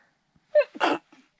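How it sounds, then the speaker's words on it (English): A man sneezes once at a backcountry campsite, a short voiced intake followed by a loud, breathy burst, close and alone in quiet surroundings. "Uh-oh, I gotta sneeze."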